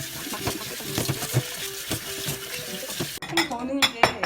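Boiled noodles rinsed in a kitchen, with water splashing and pots and dishes clattering in quick, busy bursts close by, ending in a sharper run of metallic knocks.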